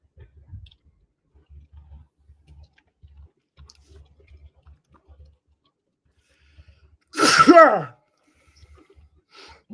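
A single loud sneeze bursts out near the end, alone after a stretch of faint, soft clicks and low murmurs.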